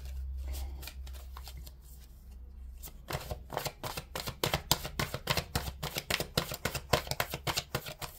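Angel tarot cards are shuffled by hand at close range. A soft slide comes first, then a quick run of crisp, rhythmic card flicks and riffles.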